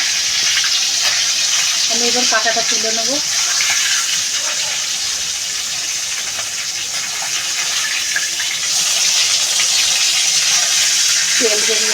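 Pangas fish bones frying in hot oil, a continuous bright sizzle that stays loud throughout, with a person speaking briefly over it.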